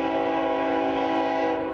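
A train passing beside the tracks sounds a long, sustained horn, a loud steady chord held for the whole moment over a rumbling undertone of the rail cars.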